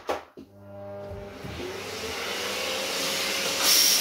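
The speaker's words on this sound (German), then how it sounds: "Und ganz am Ende nehme ich mir dann meinen Staubsauger." A Dyson V8 Absolute cordless vacuum cleaner starts with a short clunk and spins up into a loud, steady whooshing whine that holds to the end as it is used to clean out its own cyclone housing.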